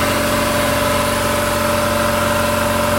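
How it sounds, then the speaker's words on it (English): A Quincy air compressor running outside a shop, a loud steady mechanical drone with constant low hum and even pulsing, close by and with no voices over it. "It's not too loud of a compressor, but yeah, it's definitely not too loud."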